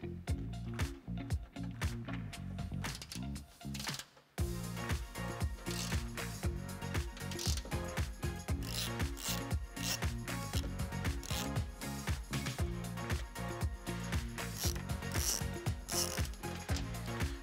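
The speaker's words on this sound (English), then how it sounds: "you're gonna continue with your T15 Torx bit and remove the three located at the top" Rapid ratchet clicking from a ratchet with a T15 Torx bit backing out fender flare bolts on a 2019-2022 Silverado 1500, in a dense, steady run of clicks with a brief pause near the start.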